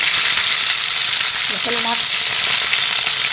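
Local pond fish fry in a pan for a curry, giving a loud, dense, continuous sizzle close up, with a brief clatter partway through.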